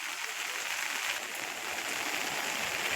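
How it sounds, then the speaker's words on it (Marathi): A steady, rushing roar of flowing water, like a rain-fed stream, fills the space with a continuous broad hiss and no pauses. "झुऱ्यांचा दणदण असा आवाज येतोय"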